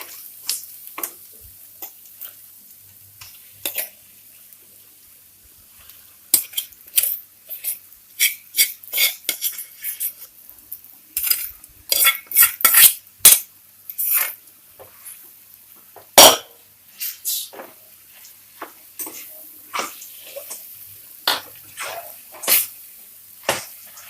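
A spoon clinks and scrapes against a pan while onion, green chilli and potatoes are stir-fried, giving irregular sharp knocks and scrapes over a faint low sizzle, busier in the middle.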